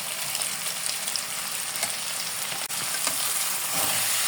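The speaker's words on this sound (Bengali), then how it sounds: "মশলাটা ভালো মতো মিলাই নেব।" Pasta noodles with Maggi masala fry in a pan, a dense, steady sizzle close by with faint scraping of stirring throughout. No voices.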